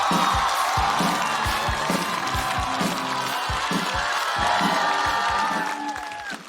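A stand-up comedy show audience claps and cheers for the next comedian taking the stage, a steady wash of applause with scattered whoops that fades slightly toward the end.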